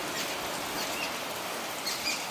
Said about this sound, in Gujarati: આજ મોસમનો પહેલો વરસાદ.